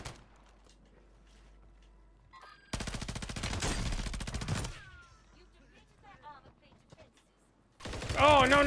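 Rapid automatic gunfire from Call of Duty Warzone 2 rips through a loud sustained burst of dense shots, then quieter scattered game sounds follow before another heavy burst of fire at the end.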